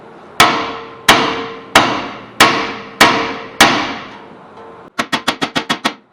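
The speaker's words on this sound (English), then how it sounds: "we're going to get a big old hammer, hit it right up here, try to work this out" Heavy hammer blows on a badly corroded rear hub bearing of a Ford Taurus: six loud, evenly spaced metallic strikes with ringing decay, then a quick burst of six faster, lighter hits, no talk.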